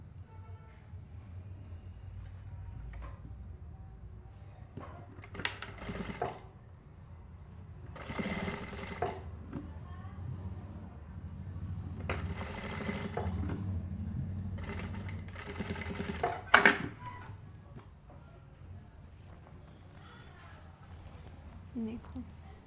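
Domestic sewing machine stitching a deep-neck princess-cut blouse, running in several short whirring bursts separated by pauses, with a voice talking in the gaps and a sharp clack near the end of one burst.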